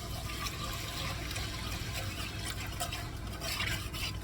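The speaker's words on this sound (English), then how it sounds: "now I'm going to add just plain beef broth." Plain canned beef broth poured into a cooking pot for a beef and noodles dish, a steady liquid splash and trickle running the whole time at moderate level, with no talking.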